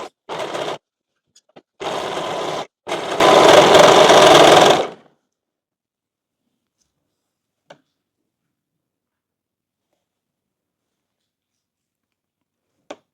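An overlock sewing machine stitches fabric in three close bursts of rapid mechanical whirring. The last burst is the longest and loudest, and a few faint clicks follow in otherwise near silence.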